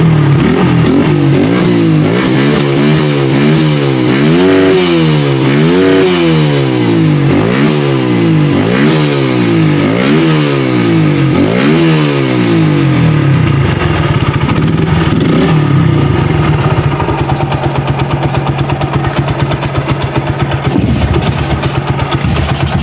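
A modified Honda Blade 125cc motorcycle engine revs loudly and repeatedly up close, rising and falling in quick successive throttle blips before settling into a steadier rough idle.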